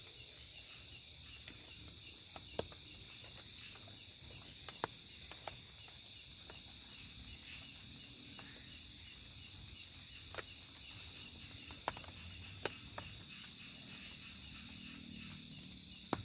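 Insects, frogs and grasshoppers call at night in a forest during an overnight camping trip in drizzling rain. A dense, continuous high cricket-like trill fills the scene, with scattered faint clicks and soft low background sound.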